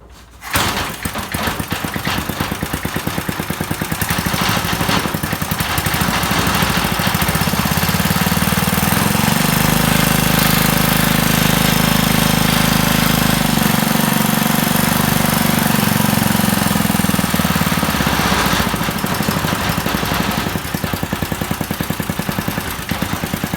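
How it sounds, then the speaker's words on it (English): A Briggs & Stratton flathead engine starts and runs loud and steady at close range, a constant buzzing drone that holds for over twenty seconds with no talking. "This is a good running engine right here."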